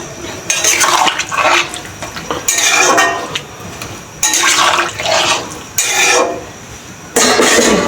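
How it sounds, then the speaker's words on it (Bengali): Water poured into a pan for a tengra fish curry with tomato and coriander leaves: close, loud splashing gushes in several separate bursts, with light clinks of the pan between pours. "পরিমাণ মতন জল দিয়ে দিব"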